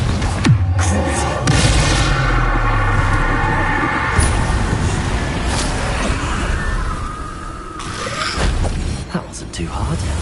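Explosions from the Confringo fire spell in the Hogwarts Legacy video game boom loudly amid dense game effects and music, with a voice shouting over the blasts.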